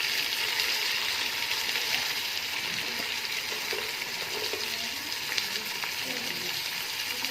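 Fresh vegetables sizzle loudly in a hot pan while being stir-fried for chicken vegetable fried rice, a constant close hiss with occasional stirring clinks.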